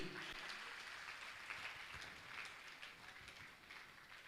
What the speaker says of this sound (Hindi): जोरदार ताली आपकी बजना चाहिए